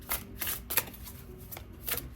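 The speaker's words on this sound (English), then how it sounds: "One more shuffle." Tarot cards being shuffled by hand in quick riffling bursts, several crisp rustling flurries separated by brief pauses, close and clear with no talking.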